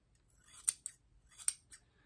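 Scissors snip through material while reshaping a mannequin-head planter, two close pairs of crisp cuts with a quieter snip after each, soft and near with no talking.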